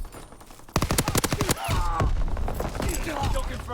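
Rapid bursts of automatic gunfire from a Call of Duty WW2 multiplayer match, a dense volley of closely spaced shots near the start, then continued loud battle noise and scattered impacts.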